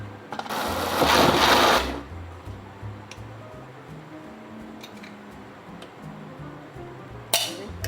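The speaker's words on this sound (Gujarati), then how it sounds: "હવે આપણે એને મિક્સરમાં પીલી નાખીએ" A mixer grinder whirs loudly for about a second and a half as it blends dosa batter with water and Eno. Quieter clinks and ticks follow, then a second short burst of grinding comes near the end.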